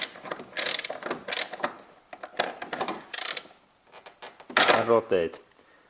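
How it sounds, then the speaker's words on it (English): A wrench turns a bolt on the engine of a 2001–2009 Toyota Prius, giving close, loud bursts of mechanical ratcheting clicks separated by short pauses. "I use my wrench and I install that in here, and then I rotate that"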